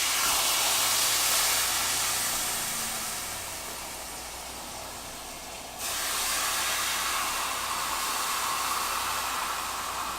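A portobello mushroom sizzles in a hot pan with coconut oil, a broad steady hiss that dips for a few seconds and then swells back up, close and continuous with no talk.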